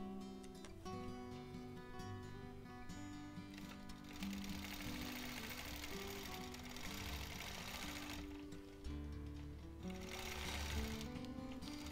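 Domestic sewing machine running steadily for about twelve seconds, stitching fabric close to its edge during basting on a quilt, a continuous close mechanical whir with faint chatter and no talk.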